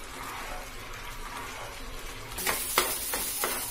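A halwasan mixture cooks in a pan as the water boils off, with a faint simmering hiss. Near the end come a few soft scraping strokes of a spoon stirring it.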